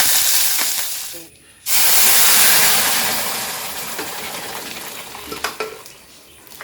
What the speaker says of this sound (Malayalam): ഇത്തിരി ഇങ്ങനെ പുകയുമ്പോഴാ കടുക് പൊട്ടുള്ളൂ